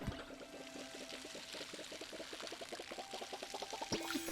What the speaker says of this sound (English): Just gonna add a little bit of water to them.